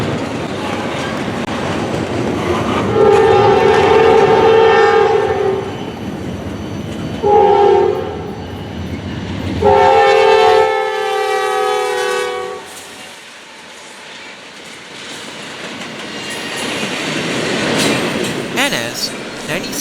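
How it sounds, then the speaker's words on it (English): A southbound Norfolk Southern intermodal freight train led by two GE C40-9W diesel locomotives roars past close by with loud, repeated horn blasts and a steady rumble that fades as it moves on. "a southbound intermodal train came roaring on by"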